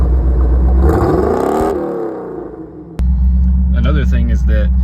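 C4 Corvette V8 revving up sharply, then dropping back to a low idle rumble after a click, with someone talking over the idle.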